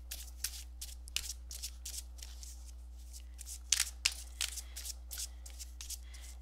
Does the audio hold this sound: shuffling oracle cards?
yes